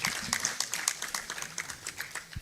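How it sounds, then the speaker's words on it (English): A book launch audience applauding the author, a lively burst of many hands clapping at close range, steady and continuous throughout with no talking. "can we please give her a round of applause?"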